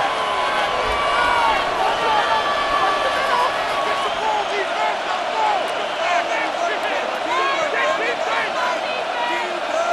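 A stadium crowd in the video game Madden NFL 26 roars and buzzes continuously, loud and steady, with whistles and shouts rising above it and a commentator talking over the noise.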